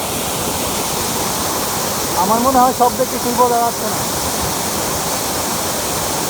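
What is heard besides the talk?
Khoiyachora waterfall rushing water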